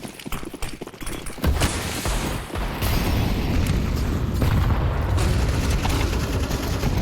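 A grenade explodes in Counter-Strike 2 with a sudden loud blast, followed by a sustained, dense rumble of gunfire and debris noise that continues close and loud.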